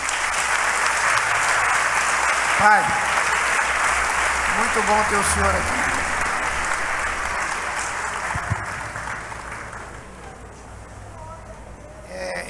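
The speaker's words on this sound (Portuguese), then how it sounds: "Vocês querem saudar com a salva de palmas meu pai e minha mãe?" Congregation applause during a thanksgiving church service, a broad wash of clapping that gradually fades toward the end, with someone speaking over it near the middle.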